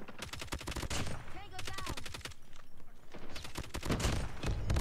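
Rapid automatic gunfire in a shooter video game, dense volleys of shots rattling in long bursts with a short lull in the middle, loud and close, with a voice faintly underneath.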